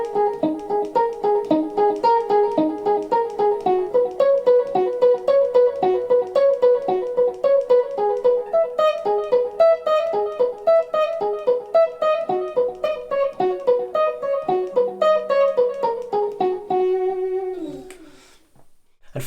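Guitar run through a Boss DD7 delay pedal plays a steady stream of plucked notes whose echoes pile into a shimmering, even texture over almost twenty seconds, then fades at the end.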